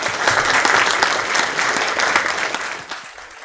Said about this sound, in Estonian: Teeme kõigepealt aplausi, aitäh!